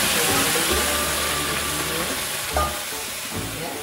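Meat placed into a hot pot for bone soup, a dense loud hiss of sizzling with a brief burst partway through as more pieces go in, close up and without speech.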